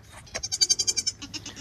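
A baby goat bleats in a rapid wavering run of short pulses, close and fairly loud, with a brief quiet gap before a few final pulses.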